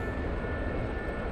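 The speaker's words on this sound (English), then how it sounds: "this is a great helicopter for stuff like this" Gazelle helicopter in the DCS flight simulator, a steady low rotor and engine drone running continuously at moderate level with no voices.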